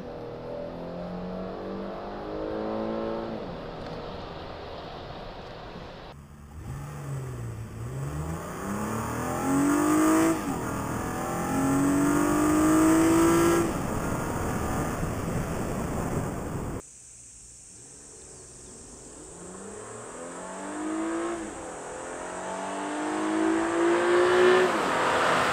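Mercedes-Benz E400 Hybrid or Toyota Crown Hybrid pulling away after engine start, rising engine and drivetrain tones sweeping upward through several gear changes, heard from inside under road and wind noise.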